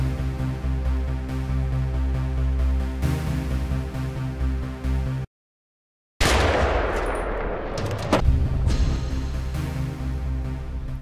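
A gunfire sound effect: a steady droning tonal sound cuts to a brief silence, then a loud burst of rapid machine-gun-like shots erupts and trails off.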